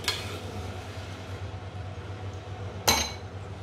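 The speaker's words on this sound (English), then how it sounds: "Give it a stir." A spoon stirring sugar syrup in a pot, with a few light metallic clinks, one sharp knock near the end, over a steady low hum of a kitchen.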